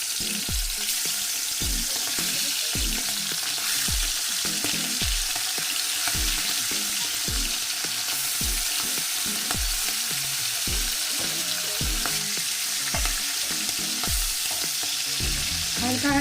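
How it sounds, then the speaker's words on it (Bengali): Prawns fry in hot mustard oil in a wok, a constant loud sizzle broken by regular scraping strokes of a spatula stirring them. "ভেজে নিচ্ছি চিংড়ি মাছগুলো।"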